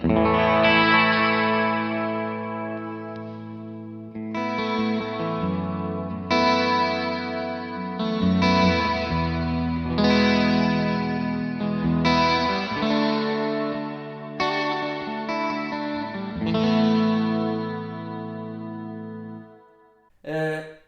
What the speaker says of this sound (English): Let's put the reverb all the way up, and this is when you get your ambient stuff.